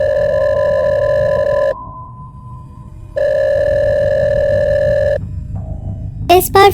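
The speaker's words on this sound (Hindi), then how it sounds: "पॉकेट में रखा उसका फ़ोन दोबारा बजा" A mobile phone kept in a pocket rings with a steady electronic tone in two long bursts separated by a short gap, loud and close, followed by a brief chirp at the end.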